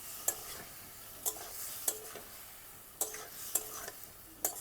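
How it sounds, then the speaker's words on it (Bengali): Spice paste for a rohu fish curry with potato and tomato is stirred and fried in a pan with a splash of water, a soft steady sizzle broken by several sharp scraping strokes of the spoon at irregular intervals. "সামান্য অল্প জল দেব। মশলাটা ভালো করে কষিয়ে নেব।"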